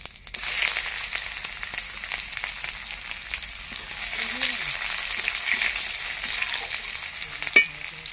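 Dried chillies, five-spice seeds and onion frying in hot oil, giving a continuous hiss and sizzle with occasional stirring scrapes and a sharp clink near the end.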